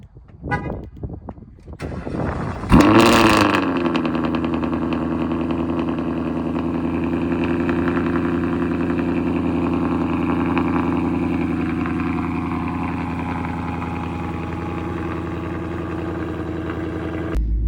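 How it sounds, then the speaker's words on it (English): A sports car engine cold-starts, cranking and firing into a loud revving flare, then settles into a steady, rumbling idle that continues close by. "let's get a cold start and then go have some fun."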